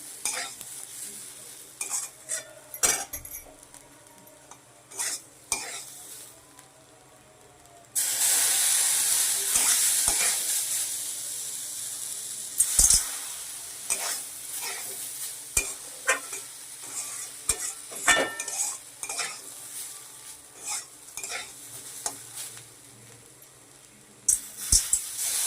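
Water is splashed onto semolina roasted in oil and it erupts into a loud, hissing sizzle. Before and after the burst, a spoon stirs and scrapes the pan in sharp, repeated strokes.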